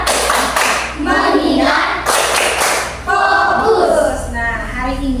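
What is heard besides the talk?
class doing rhythmic focus clap routine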